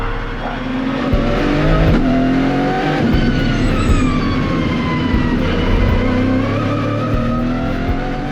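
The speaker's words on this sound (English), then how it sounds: "Okay, Russ, one time lap." A race car roars steadily past at speed, engine droning loud and continuous with shifting pitch throughout, no talking.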